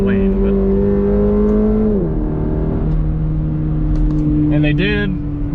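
A 2022 Subaru BRZ engine revs up with a steady harmonic drone, rising and dropping in pitch as the revs climb and fall, then a quick blip near the end, heard from inside the cabin with voices over it.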